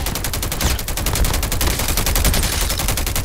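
Rapid automatic gunfire in the mobile shooter Call of Duty Mobile, a loud continuous burst of closely spaced shots with no pauses, heard alone.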